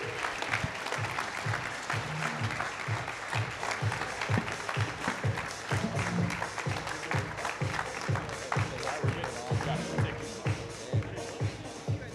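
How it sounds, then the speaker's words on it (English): Audience at a business event applauding panelists, sustained dense clapping from a crowd in a room, with some rhythmic claps and faint voices mixed in. "Round of applause for the panelists."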